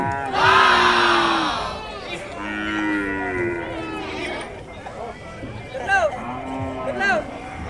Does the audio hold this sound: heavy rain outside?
no